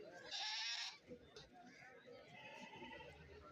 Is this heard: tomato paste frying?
no